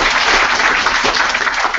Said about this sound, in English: Let's give all the hackathoners a big round of applause.